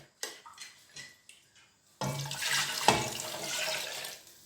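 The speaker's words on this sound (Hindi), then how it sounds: "तकरीबन ये आधा किलो पानी अभी हमने डाला है इसके अंदर।" Water is poured into half a kilo of yogurt for kadhi, a steady splashing pour lasting a couple of seconds after a few quiet clinks, close and fairly loud with no talk.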